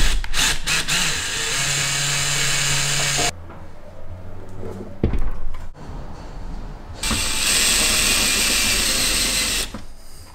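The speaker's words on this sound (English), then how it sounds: "I'm gonna tighten them all down now and make it secure" A ratchet tightens bolts on the solar panel mounts of a van, fitted with rubber sealing washers, in two long close bursts of rapid clicking separated by a quieter pause with faint knocks.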